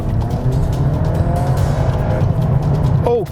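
A Volkswagen T-Roc R accelerates hard out of a junction. The loud engine roar builds steadily and rises in pitch as it revs, heard close from inside the car, with no talking.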